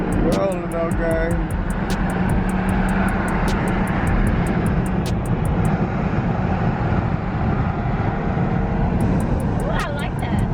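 A Redeye car's engine gives a loud, continuous, rumbling roar at a car meet race, steady throughout and close, while people talk over it.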